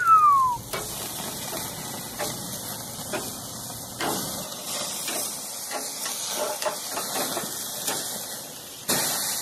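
A steak sears in a hot pan, giving a continuous hiss with faint crackles and a few short bumps, heard close up, swelling louder again near the end.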